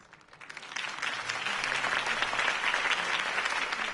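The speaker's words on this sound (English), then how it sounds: "could have heard that applause" A crowd breaks into applause that swells quickly and then holds steady, a dense wash of clapping from many hands.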